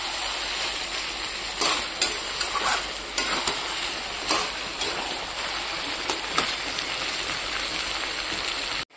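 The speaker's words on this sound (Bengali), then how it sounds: "আর এখানে হচ্ছে মাংসটা মোটামুটি কষানো হয়ে এসছে।" Chicken kosha with potatoes stir-fries in a pan, a dense continuous sizzle broken by repeated scraping strokes of a spatula, close and fairly loud with no voices.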